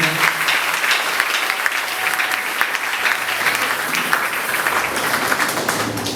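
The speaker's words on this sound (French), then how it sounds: "Est-ce qu'on peut acclamer cette parole?" A church congregation applauds and cheers during a sermon, a dense and steady roar of clapping from many people filling the room without a break.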